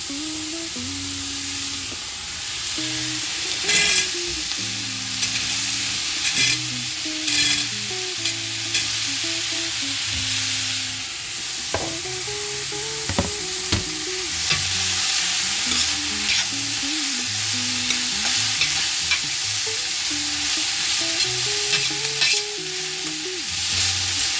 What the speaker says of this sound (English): I'm gonna add my celery.